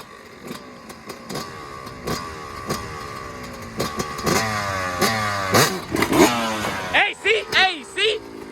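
A dirt bike engine revs hard in repeated rising and falling bursts during a wheelie attempt, loud and close, with clattering mechanical noise and excited voices breaking in toward the end.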